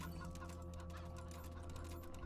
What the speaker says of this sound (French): Une poule en plus.